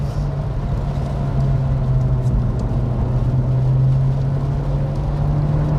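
A JDM Honda Civic Type R pulls hard on a wet road, its engine note climbing in a steady, close whir with a sustained tone and faint road noise beneath.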